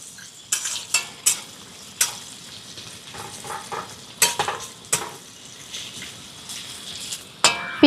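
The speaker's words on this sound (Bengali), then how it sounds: "এবারে দিয়ে দিচ্ছি একটুখানি পেঁয়াজ কুচি। পেঁয়াজটাকে খুব বেশি ভাজার দরকার নেই" Chopped onions frying in a pan and being stirred, with a steady soft sizzle under repeated sharp scrapes and clinks of a utensil against the pan, close and fairly loud, no talking.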